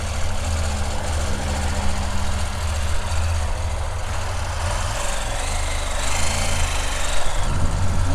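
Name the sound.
CFMoto 800MT motorcycle KTM 790 engine idling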